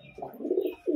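A pair of flying-breed pigeons kept in a cage gives a quick, low, throaty coo, close and fairly clear, with a short second phrase at the end.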